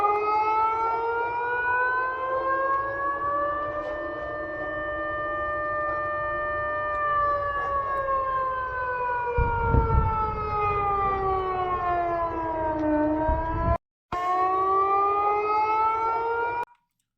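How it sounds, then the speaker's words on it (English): An air raid siren wails continuously over Belgorod during an attack, its rising and falling tones steady and loud for the whole stretch, with a brief dropout near the end. "we hear that siren going off here in Belgorod as well"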